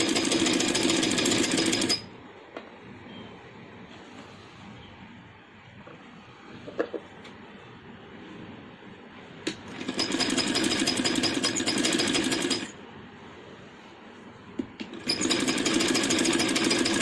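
Sewing machine stitching a binding strip along the neckline edge of a long frock, running in loud steady bursts separated by quieter pauses with faint handling noise.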